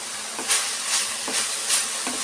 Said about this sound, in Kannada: ಎಲ್ಲ ಸೇರಿಸಿ ಫ್ರೈ ಮಾಡ್ಕೊಳ್ಳೋಣ